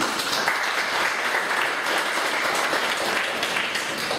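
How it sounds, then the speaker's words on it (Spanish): Steady audience applause fills a tribute gathering, a dense, even wash of many hands clapping at a constant level with no voices rising above it. "Un aplauso, por favor."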